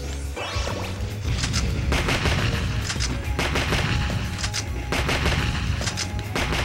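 Rapid, loud gunshots from a weak gun crack repeatedly in the Medabots Infinity video game, layered with crashes and impacts in a dense, continuous volley.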